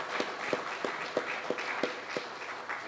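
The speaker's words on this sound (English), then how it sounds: "Let us applaud Ian and his colleagues." Applause at the launch of the 2017 GATFFEST film festival, a fairly quiet audience clapping with a few distinct, rhythmic claps standing out at regular intervals, suggesting a small crowd.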